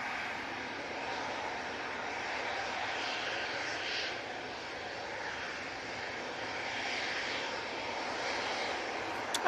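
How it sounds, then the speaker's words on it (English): An EasyJet airliner at Manchester Airport gives a faint, even engine rumble and whine some distance off, holding steady throughout. "And that Easyjet is coming on"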